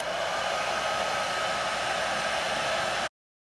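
A heat gun shrinking a larger sleeve of heat shrink tubing over spliced wires during a radar detector install, a steady loud blowing roar that runs unchanged for about three seconds, then cuts off abruptly into silence.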